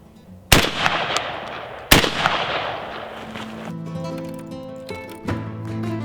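Two loud, sharp shotgun blasts from a reloaded Aguila shotgun shell hull, about a second and a half apart, each leaving a decaying echo, followed by ringing tonal resonance and quieter background sound.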